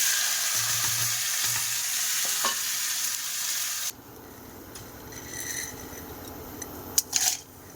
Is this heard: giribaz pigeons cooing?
no